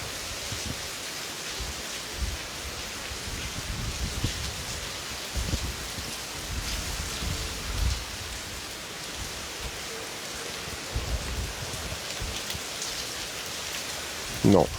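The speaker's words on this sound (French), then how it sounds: "Le vent n'est pas fort, mais la pluie par contre, terrible." Heavy rain from Storm Fiona pours down in a steady, dense hiss over Pointe-à-Pitre, with occasional louder splashes and thuds close by.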